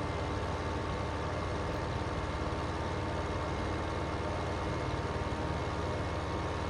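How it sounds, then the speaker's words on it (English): Steady, even engine drone of a farm vehicle in Farming Simulator 2015, a low continuous hum that holds at a constant level throughout with no speech over it. "that engine sounds so weak"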